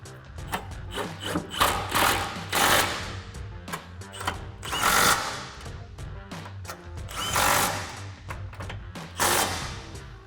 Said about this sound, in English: we'll tighten them down with our 12mm socket